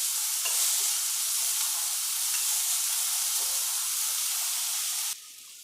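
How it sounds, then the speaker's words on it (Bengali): Onion frying in a kadai for aloo chop gives a steady, loud sizzle with faint stirring scrapes, running continuously before dropping abruptly to a quieter hiss near the end. "ভালো করে ভেজে নেব পেঁয়াজটা"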